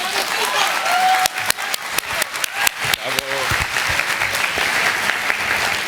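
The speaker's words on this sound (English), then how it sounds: "Let's all applaud for Fivos" An audience at a youth conference applauds, a dense wash of clapping with sharp individual claps standing out, while a voice talks over it.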